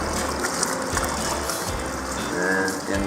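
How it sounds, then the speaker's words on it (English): Gear and gloves sloshed and rinsed in a tank of rinse water, a steady loud close wash of splashing and trickling water with no clear breaks. "we've got some rinse water. So I'm going to give it a little rinse"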